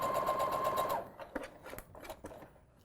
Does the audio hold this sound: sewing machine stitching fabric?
yes